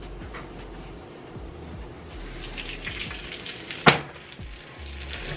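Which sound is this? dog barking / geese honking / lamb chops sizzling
lamb chops sizzling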